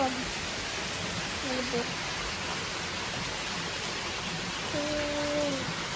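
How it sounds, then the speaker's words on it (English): Heavy, steady rain pours down outdoors in foggy weather, a continuous broadband hiss filling the scene, with a few brief voices speaking over it. "That time it was little bit raining. Now too much."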